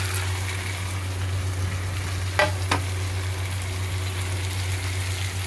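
Marinated, previously fried prawns being tossed into a pan of hot oil for restaurant-style chilli prawns: a steady, even frying hiss with two brief louder crackles near the middle, heard close against a low background hum.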